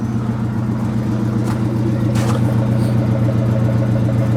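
A race car's engine runs steadily at idle in a garage, with a low, even hum and a faint carburetor burble throughout. The engine stays close and constant, with no talk over it.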